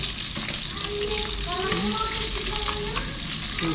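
Loud, continuous sizzling of tilapia frying in hot oil in a pan, crackling and spitting steadily with faint background voices.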